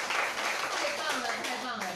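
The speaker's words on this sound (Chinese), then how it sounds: "我们给她一个掌声" An audience at a seminar in Taipei breaks into dense, continuous clapping, with a voice talking over the applause throughout.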